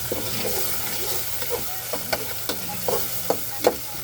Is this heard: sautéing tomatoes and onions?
yes